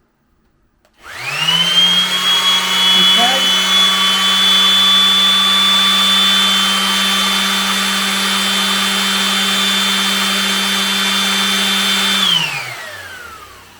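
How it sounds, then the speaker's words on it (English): An electric sander whirs up and runs steadily for about eleven seconds, loud and close with a high whine, then spins down. "The next thing we're going to do is this sander here."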